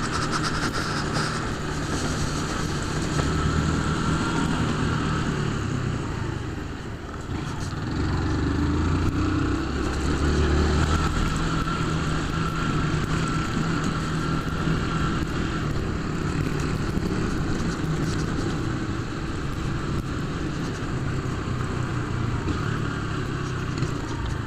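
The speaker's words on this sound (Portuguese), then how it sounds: "já botando a moto." A motorcycle engine runs steadily at close range, a continuous rough drone that holds level throughout with a short dip in loudness partway, no voices.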